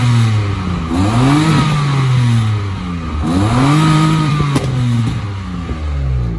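A remapped Citroen C1 small petrol engine idles and revs, with two rising-and-falling rev sweeps over a steady running drone, loud and close.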